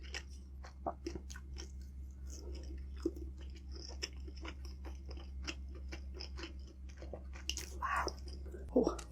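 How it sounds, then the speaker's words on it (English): Close, quiet chewing of tender meat like pulled pork, with soft wet bites and crunches repeating at an irregular pace, plus occasional faint mouth sounds and low murmurs near the end. "The meat is very tender. It's like pulled pork, you know?"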